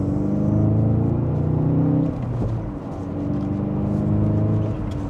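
A 2024 Volkswagen Golf GTI in sport mode pulling hard in second gear, a smooth mid-pitched engine drone rising steadily, dipping briefly at a shift-like pause before climbing again, heard from inside the cabin.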